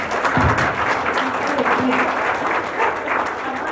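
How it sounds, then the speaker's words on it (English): Audience applause, steady and full, with faint voices mixed under the clapping. "let's give these guys a round of applause"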